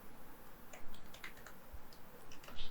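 Fingers typing code on a computer keyboard, a quiet run of irregular key clicks and taps heard close up with no talking.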